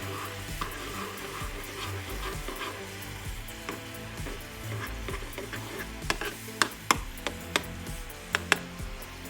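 A spoon stirs a turmeric tea mixture of turmeric, lemon and honey in a hot pot, giving a steady scraping and soft sizzle that ends in a run of sharp ticks and taps against the pot.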